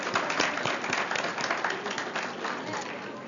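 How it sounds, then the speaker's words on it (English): A crowd claps steadily in a dense wash of applause, moderately loud, holding through the whole stretch. "Let's give her a round of applause, please."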